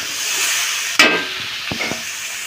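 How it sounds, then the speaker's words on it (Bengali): Hot water poured into a pan of frying bamboo shoot curry, a sudden loud burst of sizzle and steam that eases into a softer hiss, followed by two brief knocks. "আর এখন গরম জল দিয়ে দেব।"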